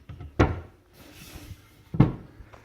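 Vinyl-wrapped cabinet doors in a built-in pocket storage unit with shelving in a house open and shut, giving two sharp, close wooden knocks about a second and a half apart, with a soft rustle between them and no talk.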